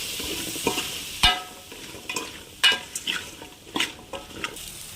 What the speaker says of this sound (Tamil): இது எல்லாத்தையும் நல்லா மிக்ஸ் பண்ணி விட்டுடலாம்